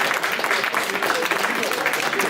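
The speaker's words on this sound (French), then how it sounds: "vous faites des applaudissements avec des belles envolées" An audience applauds in a dense, steady wash of clapping that continues evenly from start to finish, close and fairly loud.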